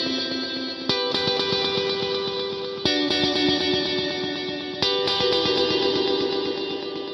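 Electric guitar through a reverb effect set to an ultra-high, maximum echo-density setting, played in a shoegaze preset: three strummed chords ring out, each swelling into a dense, shimmering wash of sustained reverb, with no talking.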